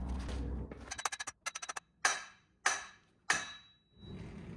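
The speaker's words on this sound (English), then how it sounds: "I'm gonna hit it with a hammer to shock it to see if we can crack that thing loose" A hammer strikes a breaker bar set on a crank pulley bolt of a Cobra engine: a burst of rapid metallic taps, then three sharp, ringing heavy blows spaced about a second apart, each decaying quickly.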